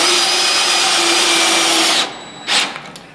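Power drill driving screws into wood during truss or frame assembly, a steady close whine holding for about two seconds, then stopping, followed by a brief second burst and faint clatter.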